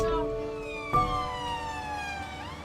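An ambulance siren wails on lights and sirens, a tonal wail sliding in pitch with a brief knock partway through, heard from inside the vehicle.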